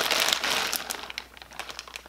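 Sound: ripping open a clothing shipping package by hand

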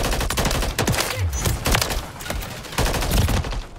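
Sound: M8A1 burst fire weapon gunfire in the video game Modern Warfare 3

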